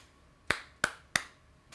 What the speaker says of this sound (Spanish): tengo que aplaudir para poder sincronizar el audio